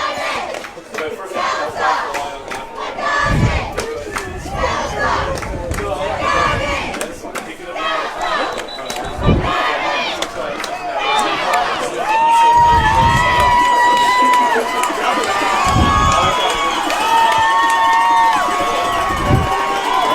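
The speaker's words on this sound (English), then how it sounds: "Crowd on their feet for the Ridge Runners." A high school football crowd roars on its feet at a Grove game, loud sustained cheering and shouting from many voices with rhythmic thuds and surges throughout.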